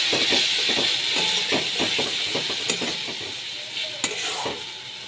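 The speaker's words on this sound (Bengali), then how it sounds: "ভালো করে কষিয়ে নিচ্ছি। সামান্য একটু জল দিয়ে দিচ্ছি।" Spices sizzle and hiss in a pan for a fish curry with cauliflower and potato as a splash of water hits them, with steady steam hiss and repeated stirring scrapes throughout, plus a couple of sharp clinks.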